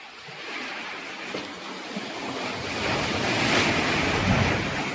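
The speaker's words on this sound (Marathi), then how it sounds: "पाणी असं वरती आपटून वरती येतं." Sea waves surge into the narrow rocky gorge at Bamanghal near Hedvi, a loud continuous roar of surf swelling as water rushes upward, with heavy wind noise.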